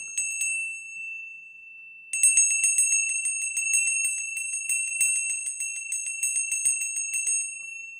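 Small bells ring bright and clear at a Wienerlied livestream, a few strikes first, then a dense rapid jingling that goes on for several seconds, close and loud with no voices over it.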